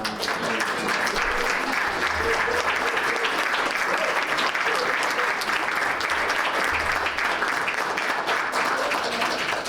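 An audience at a talk on African American speechmaking gives sustained applause. The clapping is loud, even and continuous throughout, with no clear voices over it.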